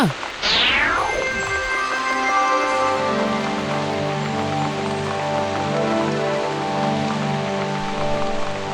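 Steady rain pours in an animated Telugu moral story, a dense continuous patter under background music, with a falling whoosh at the start; a character's voice may be present over it.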